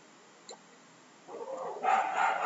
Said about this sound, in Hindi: अरे इनको भगा देना कुत्तों को